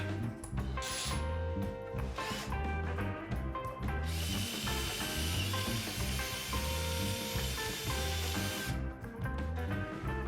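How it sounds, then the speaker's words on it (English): A step drill grinds steadily through hard metal for about ten seconds, loud and close, with pitch shifting as it bites and a shrill whine midway. "Get a small drill and step drill it."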